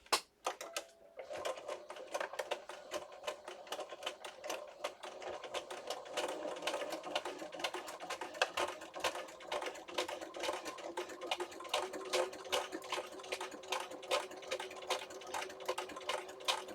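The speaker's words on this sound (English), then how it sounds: "let me sew this" Sewing machine stitching through a paper accordion booklet, a fast steady rattle of needle strokes running continuously at close range after a brief pause at the start.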